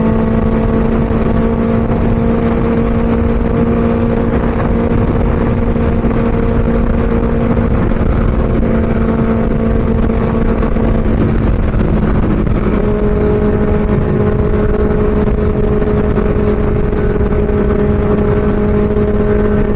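Motorbike cruising at a constant 115–120 km/h, a steady loud engine drone with a sustained tonal hum and rushing wind noise throughout, recorded up close.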